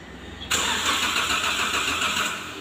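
A Daihatsu Xenia's starter cranks the engine, which fails to catch; a loud, steady whirring grind kicks in suddenly and holds, close by.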